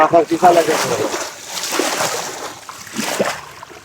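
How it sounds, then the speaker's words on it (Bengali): Water is slapped and splashed by hand in open water to drive fish toward a set net during traditional fishing, a series of irregular close sloshing splashes with someone talking over them. "আপনারা দেখতে পাচ্ছেন খুব সুন্দরভাবে আমার চাচা মিয়া পানির শব্দ করছে"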